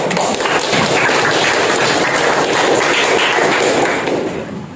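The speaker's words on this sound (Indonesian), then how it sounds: "Kita kasih aplaus untuk Denis" Classroom applause for a student named Denis during a lesson, a dense, continuous patter of many hands clapping loudly for several seconds before tapering off at the end.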